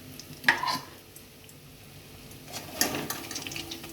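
Sago pakoras fry in hot oil with a soft, steady sizzle, broken by two short bursts of stirring and scraping in the pan, close and moderately loud with no talking.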